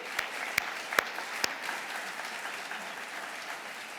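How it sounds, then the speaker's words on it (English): Award ceremony audience applauding the judges, a few loud individual claps at the start rising over a softer, thinning wash of clapping that fades over four seconds. "A round of applause for our judges"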